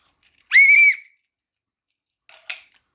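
A loud, shrill blast from a 3D-printed whistle lasts about half a second, followed after a pause by a couple of brief, fainter breathy toots.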